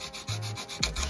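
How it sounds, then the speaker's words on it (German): Hand sanding of a part for a 74cc Italkit moped engine for a Puch Maxi, heard as a few short back-and-forth rubbing strokes, close and alone. "Und weiter schleifen."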